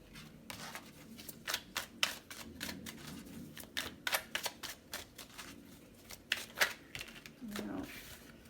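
A deck of tarot cards is shuffled and drawn, giving crisp, irregular riffling flicks and snaps at close range, with a few louder bursts among softer rustles.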